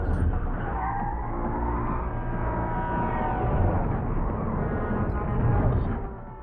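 Cars racing through a chase scene in The Matrix Reloaded, a steady roar of engines with skidding tires and passing traffic, loud and continuous throughout.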